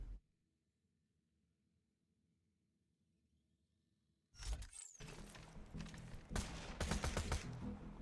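In Borderlands 2, a fire weapon opens up after about four seconds of near silence: a sudden loud, dense burst of rapid gunfire that keeps going with sharp cracks to the end.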